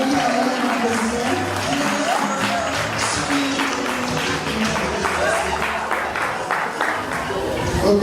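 A crowd at a retirement celebration for mothers in Côte d'Ivoire applauds in honour of the president, the clapping steady and dense throughout, with voices and chatter mixed in.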